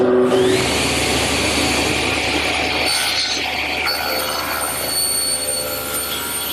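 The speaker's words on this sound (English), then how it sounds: "my panel cutter sure makes an easy job of squaring up the bottom" A panel cutter saw squaring up the bottom piece of a wooden hearthside settle, one steady loud whine of the motor and blade running through the board, close and continuous.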